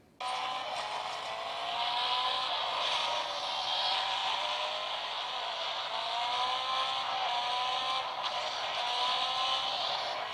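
GT Racing 2 running on a UMI Super smartphone, a steady whine of racing engines with a shifting pitch as the car accelerates, heard at a moderate level through the phone's speaker.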